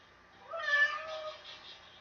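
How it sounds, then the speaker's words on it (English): A pet cat named Molly gives a single drawn-out meow close by, rising and then trailing off over about a second, with no talk over it. "I've got a mad cat"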